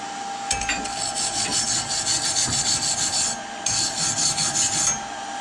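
A wire brush rasps back and forth over a fresh MIG weld bead, scrubbing off slag in steady close strokes with a brief pause midway.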